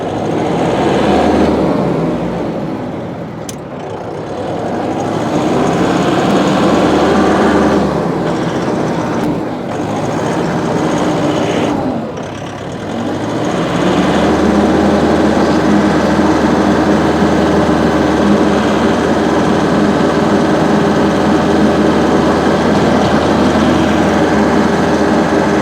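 Mahindra 5100 series 4x4 tractor (5145/5155) driving: a loud, continuous diesel engine drone with mechanical whine, dipping briefly a couple of times, then holding steady and close for the rest of the stretch.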